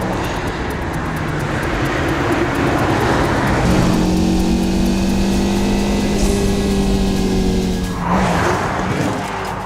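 Car driving the D926 mountain road through the French Alps, a loud, steady engine drone with gear-linked pitch rises and dips and constant road and wind roar, briefly easing near the end before building again; no talking.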